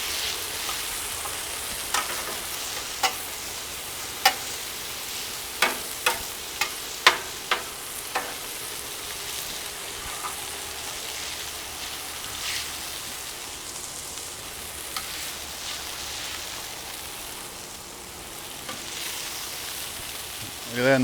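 Skirt steak sizzling on a Solo Stove SteelFire griddle outdoors, a steady moderate hiss with a series of sharp metallic spatula scrapes and clacks spaced a second or so apart, then softer sizzling; no talking.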